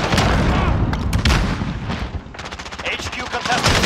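Dense automatic gunfire crackles through a Modern Warfare jungle firefight, AK-47 bursts and machine-gun fire layered loud and near, rattling almost without pause while a voice talks underneath.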